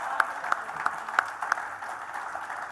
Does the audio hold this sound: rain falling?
no